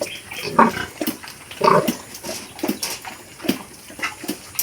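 A young piglet grunts and snuffles while eating, giving short close bursts of grunts in an uneven rhythm, with faint watery sloshing in the background and no talk.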